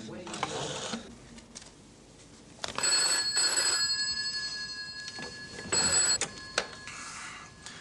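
An old-style telephone bell rings in two distinct bursts indoors, each a loud shrill metallic trill, with quieter room sounds and faint movement between them.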